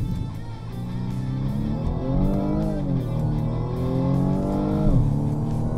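BMW M235i Gran Coupé with xDrive accelerating hard, engine note rising in pitch, then dropping sharply at each paddle-shifted gear change, several shifts in quick succession, loud and close with no talk.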